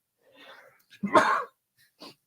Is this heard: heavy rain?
no